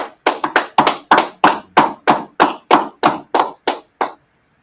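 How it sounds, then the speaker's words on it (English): A group claps hands together in unison at a religious class gathering, about a dozen loud crisp claps in a steady quickening rhythm, then stopping abruptly. "Clap it up."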